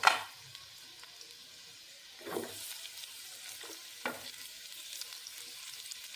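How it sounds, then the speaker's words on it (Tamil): Onion sautéing with garlic in a pan for bitter gourd kulambu: a steady close sizzle runs throughout, broken by a few louder stirring scrapes. "பூண்டு நல்லா லேசாக வதங்கின உடனே வெங்காயம் போட்டுக்கலாம்."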